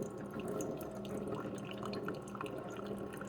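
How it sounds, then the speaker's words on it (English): Coffee streaming from a Hamilton Beach FlexBrew single-serve coffee maker through a reusable filter into a cup, a steady continuous trickle and splatter of liquid, close and unbroken. "and now my coffee's coming out."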